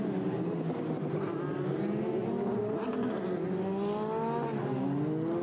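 Formula Renault 2.0 race cars drone steadily on a formation lap at the Red Bull Ring, several engines layered at a distance with rising and falling pitch.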